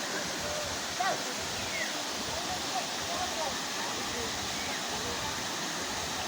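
A waterfall at Bolinao pours in a constant, dense roar heard up close, with faint voices of people nearby.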